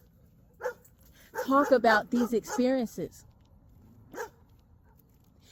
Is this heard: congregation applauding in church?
no